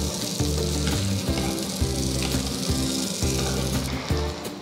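Potato patties for ragda pattice shallow-fry in oil in a pan, giving a steady, close hiss and crackle that runs the whole time beneath a bed of background music.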